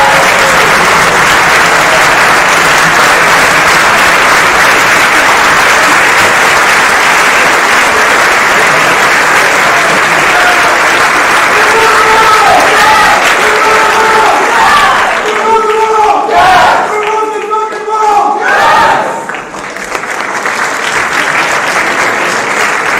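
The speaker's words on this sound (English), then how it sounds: "Let's give a round of applause." An assembly audience at a general meeting breaks into loud, sustained applause with scattered cheers, a dense clapping wash that thins and fades toward the end, with some voices briefly audible near its close.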